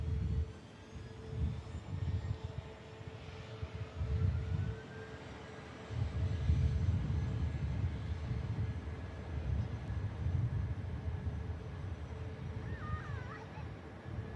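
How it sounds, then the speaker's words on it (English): A Neo airliner arriving from Stockholm touches down at Manchester Airport, a low distant engine rumble with rising and falling swells, partly muffled by wind noise on the microphone. "Here is the Neo about to touch down from Stockholm, as I say."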